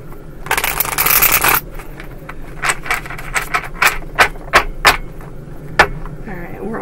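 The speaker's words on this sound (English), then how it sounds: "One more shuffle." A deck of tarot cards is shuffled by hand, a long riffling burst followed by a series of crisp, sharp card snaps and taps at an uneven rhythm, close by and without talk.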